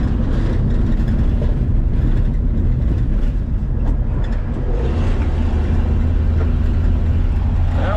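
A 1960 Plymouth on a test drive gives a loud, continuous low engine rumble with road noise from inside the car, and the pitch shifts partway through as it downshifts.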